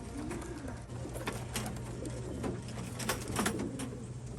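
Several racing pigeons coo softly and continuously, with low, throaty murmurs overlapping in a quiet, enclosed loft.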